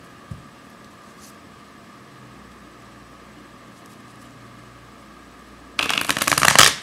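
A short, loud flurry of tarot cards being shuffled close up, breaking in after a quiet stretch of room hum.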